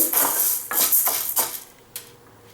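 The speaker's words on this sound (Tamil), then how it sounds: "உளுந்து போட்டு வறுத்துடலாம்" Urad dal dry-roasting in a pan for uluntham kali, a spatula scraping and tossing the grains in a few close, brisk strokes with a lighter final scrape.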